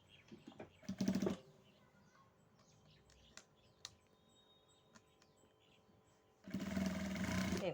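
A sewing machine stitches a dress hem in two short bursts, a brief run near the start and a longer steady run at the end, with quiet handling sounds between.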